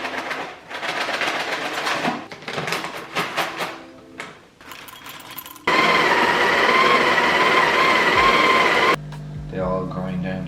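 A coffee grinder grinds coffee beans: clattering handling noises give way to a loud, steady mechanical whir lasting about three seconds, then it cuts off abruptly.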